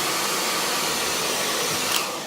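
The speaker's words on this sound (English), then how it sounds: "get your dryer and just give it a little blast underneath it" A hair dryer blows steadily at close range while hair is being blow-dried, a constant whooshing roar that eases off slightly at the very end.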